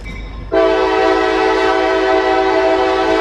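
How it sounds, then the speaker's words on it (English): After a brief quiet moment, a loud train horn blasts and holds a steady, rich tone to the end. "We could do a train horn."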